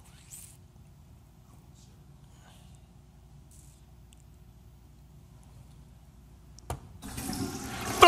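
A toilet flushes abruptly after a long quiet stretch, a loud rushing gurgle of water that starts suddenly and builds toward the end.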